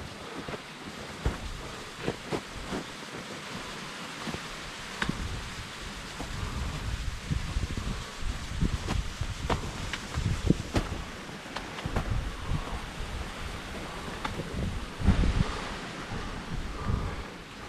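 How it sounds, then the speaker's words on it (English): Tributary waterfalls on a brook in winter roar as a constant broadband rush, with gusts of wind buffeting the microphone throughout. "Those are two of the tributary falls here at Thomas Dixon Brook"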